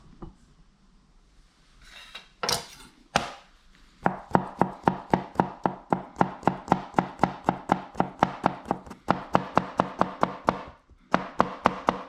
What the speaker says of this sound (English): And gherkin, finely chopped.